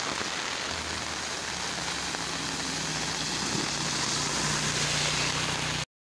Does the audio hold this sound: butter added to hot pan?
no